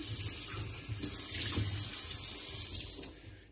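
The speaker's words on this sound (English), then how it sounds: "I'm just rinsing out the jars to get the chunks out." Water runs from a kitchen tap while glass jars are rinsed of ginger chunks. The steady splashing stream changes tone and grows louder partway through as the jars fill and empty, then it cuts off near the end.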